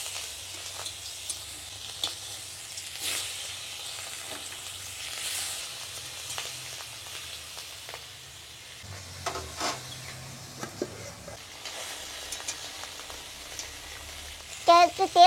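A fish head sizzling in a hot wok gives a steady, moderately loud frying hiss with scattered pops and crackles, and a few faint clinks near the end.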